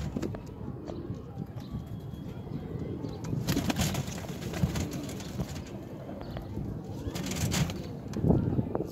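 Soft, low pigeon coos murmur repeatedly through a steady background rustle, with no clear talking.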